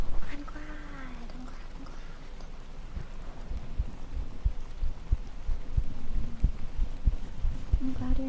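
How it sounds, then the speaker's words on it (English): Soft, rhythmic heartbeat thumps played back in an immersive binaural ASMR setup in a rainy-room ambience, steady low pulses growing slightly louder over the clip, with a faint hum and gentle background texture. "As it would turn out, this is a heartbeat."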